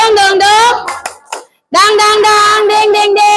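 Children chant the Indonesian tepuk semangat, loud sung syllables in a steady rhythm punctuated by hand claps, with a brief pause mid-chant before the voices resume.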